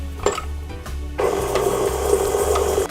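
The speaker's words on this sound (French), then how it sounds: "nous allons mettre déjà en premier le beurre tempéré dans la cuve du batteur" A stand mixer creams tempered butter with brown sugar in its bowl, starting after a brief pause and then running steadily with a loud, close whir and faint scraping for the rest of the moment.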